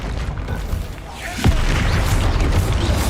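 A Confringo fire spell blast in the video game Hogwarts Legacy, with one deep booming explosion at mid-clip that rises out of ongoing combat noise and leaves a dense rumbling tail.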